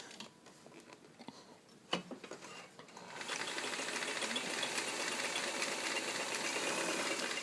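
A vintage steel Kenmore 158.902 sewing machine stitching linen fabric, starting with a few handling clicks and thumps, then settling into a steady, fast mechanical whir and patter that runs close and continuous to the end.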